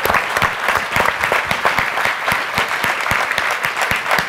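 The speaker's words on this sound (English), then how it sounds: "I think I want to give them a round of applause" An audience applauding at the closing panel of a 2014 networking conference, a sustained, fairly loud wash of many hands clapping at an even pace from start to finish.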